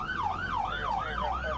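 An ambulance siren wails in a rapid rising-and-falling cycle, loud and continuous over a low engine rumble as the vehicle responds to an emergency call, with no voices.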